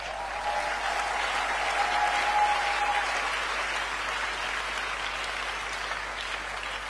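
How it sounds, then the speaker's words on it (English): Audience at a Wednesday church fellowship applauding themselves, a steady dense wash of clapping that holds at even loudness for about seven seconds, with a faint sustained tone in its first half. "Can you clap for yourself?"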